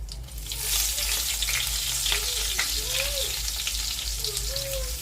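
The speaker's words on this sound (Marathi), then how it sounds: "आता टाकू हिंग आता टाकू कढीपत्ता फ्रेश" Asafoetida and fresh curry leaves hit hot tempering oil with cumin for a tempered dal, giving a loud, steady, close-up sizzle and crackle that runs continuously with faint stirring.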